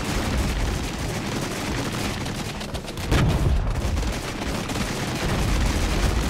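Artillery strike hitting a Soviet T-80BV tank platoon in the Cold War strategy game Flashpoint Germany: a dense, continuous rumble of distant gunfire and blasts with a sharper burst of impacts about halfway through, steady and loud throughout.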